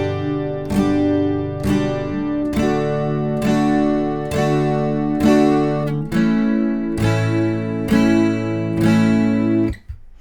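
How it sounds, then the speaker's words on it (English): Acoustic-style guitar strummed downward once per beat, four strums to each chord, giving about ten evenly spaced, ringing chords that sound loud and close with sustained tails between strokes. "We are going to strum each beat of the bar."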